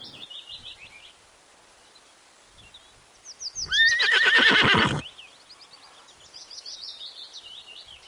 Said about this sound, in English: H for horse.